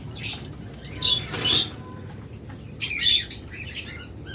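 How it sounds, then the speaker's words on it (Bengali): Red-eye red-head opaline pet birds, a master pair, chirp in short bright bursts with brief squeaky calls scattered across several seconds, fairly close, with no talking. "master pair red eye red head opaline পাখিগুলো"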